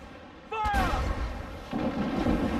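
Ship cannons fire in Assassin's Creed 4 Black Flag, a sharp boom followed by a deep rumbling roll, with a second heavy blast swelling near the end over ocean ambience.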